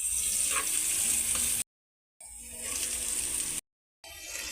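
Mineral water poured into a hot frying pan while cooking eskabeche, a loud hiss and sizzle with a gushing pour, cut by two abrupt silent gaps before the sizzling resumes.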